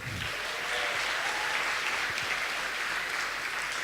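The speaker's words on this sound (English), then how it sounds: "It's much more clapping." Steady, dense applause from a large crowd at a games award ceremony in Berlin, many hands clapping continuously without a break.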